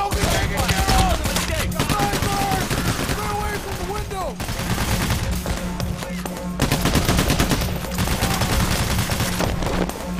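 Rapid automatic gunfire in the video game Payday The Heist, bursts of shots crackling almost continuously through the clip amid chaotic in-game noise and sporadic voices.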